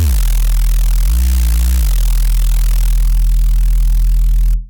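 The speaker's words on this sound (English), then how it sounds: "The second type of distortion that I want to show you uses a particular type of wave shaping that is called wave folding." A synth tone run through wave-folding distortion buzzes loud and thick, its pitch bending up briefly and settling back before cutting off abruptly near the end.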